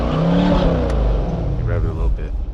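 Stock exhaust of a 2024 C8 Corvette revving in tour mode, a loud close engine roar that swells and holds, with a voice speaking over it.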